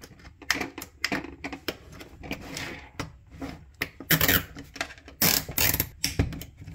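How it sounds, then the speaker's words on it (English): A zip tie is pulled tight around an induction sterilizer on a homemade induction heater build, giving a rapid series of sharp ratcheting clicks in uneven bursts, close and fairly quiet with no talking. "You want to pull the zip tie down."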